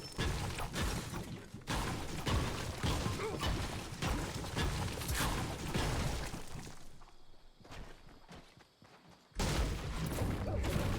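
Dense, loud video game gunfire, including a shotgun, crackles in sustained bursts for several seconds, drops to a brief lull, then erupts again near the end.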